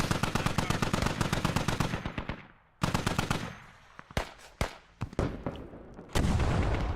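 A DShK heavy machine gun fires in the game Squad: a long rapid burst of loud close shots, a short pause, then scattered single cracks and booms before another dense burst begins.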